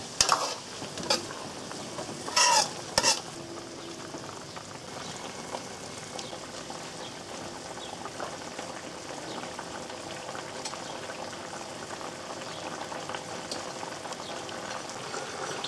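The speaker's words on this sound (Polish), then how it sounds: "Dolewam całą chochlę sosu." A full ladle of sauce hits a hot pan of oriental-style pork, giving a loud burst of sizzling and splashing that settles into a steady bubbling fry, close by and without speech.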